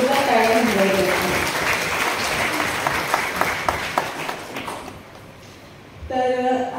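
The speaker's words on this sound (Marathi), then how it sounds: "सर्वांसाठी जोरदार टाळ्या वाजवते" A crowd at a Shahu Maharaj Jayanti ceremony honoring meritorious students and their parents gives dense, loud, sustained applause that thins out near the end before a voice begins speaking.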